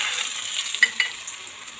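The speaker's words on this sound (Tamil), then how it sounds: "இப்போ இந்த எண்ணெயில் இந்த வத்தலை சேர்த்துக்கலாம்." Dried manathakkali berries frying in hot sesame oil give a steady, close hiss and sizzle, with a couple of faint clicks of stirring and no talk.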